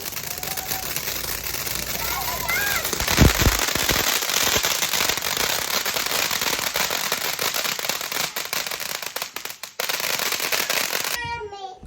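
Dense crackling of firecrackers and popping fireworks goes on continuously, with a louder bang early on and people's voices occasionally heard underneath.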